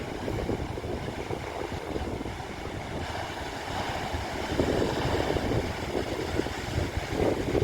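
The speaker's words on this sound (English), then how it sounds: "the waves crash in the cave" Ocean waves surge and crash into a sea cave at Los Hervideros on Lanzarote's rocky coast, a continuous roaring wash that swells louder toward the end, with wind buffeting the microphone.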